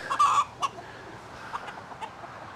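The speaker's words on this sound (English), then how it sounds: "Damn roosters, get away." Roosters clucking and squawking close by in a few loud bursts at the start, followed by fainter scattered clucks against a quiet outdoor background.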